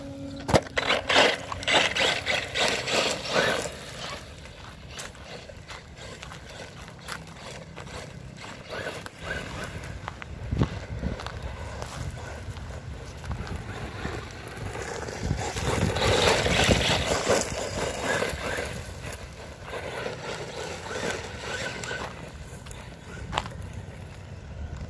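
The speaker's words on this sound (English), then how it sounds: "I'm just driving my RC, man." A Typhon 3S RC car driving outdoors in a bash session, with rough, fluctuating motor whine and gritty rumbling over terrain, rising and falling at moderate distance, plus scattered knocks and wind noise.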